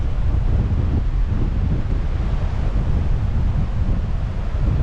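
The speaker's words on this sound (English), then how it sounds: "This is a good test for the wind." Wind buffets a microphone outdoors on a cold day in Valletta, Malta, a steady loud low rumble that roars for the whole stretch with no voices.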